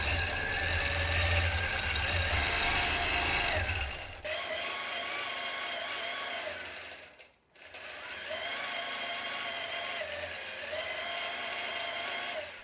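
A sewing machine stitching a quilt border runs steadily with a fast mechanical whir and rattle, briefly pausing and dipping in the middle before starting again at a similar speed, close and continuous.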